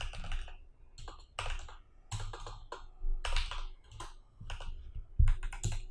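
Someone types JavaScript code on a computer keyboard in quick bursts of clicking keystrokes separated by short pauses, close and moderately quiet, with no talking.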